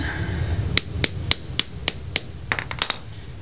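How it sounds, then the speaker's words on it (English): Sharp metallic hammer strikes driving a looped lag screw into a floor, about a dozen, spaced unevenly and quickening toward the end, close by over a low background hum. "put this lag screw with the loop on the end, hammer it down a little bit"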